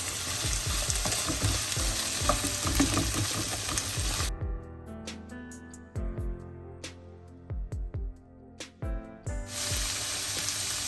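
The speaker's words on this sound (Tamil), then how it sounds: "ரெண்டு நாடி உருளைக்கிழங்கோடைய இதை நான் சேர்த்து வதக்க போகிறேன்" Carrots, beans and potatoes sautéing in a pan as a vegetable rice dish is being made, with steady sizzling and repeated stirring scrapes that drop to quieter, sparser clinks in the middle before the loud frying returns.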